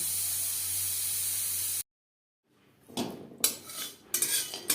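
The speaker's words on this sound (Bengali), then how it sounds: "গ্রেভির সাথে মাংস বেশ ভালো করে মিক্সড করে দেব" Mutton being stirred into gravy in a metal cooking pot for alu mutton curry, with a steady hiss that cuts out, then a few scraping, clattering spoon strokes against the pot.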